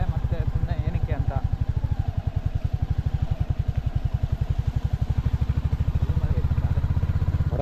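A motorcycle carrying two or three riders on a monsoon forest trail near Sirsi throbs steadily and close, its rapid regular engine pulses continuing throughout with no pause.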